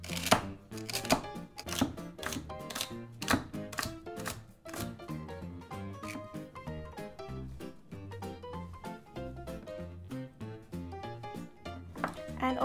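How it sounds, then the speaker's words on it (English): A knife finely chops celery on a board in quick, rhythmic taps, fairly quiet and close, with soft background music running underneath. "now I'm going to finely chop up some celery"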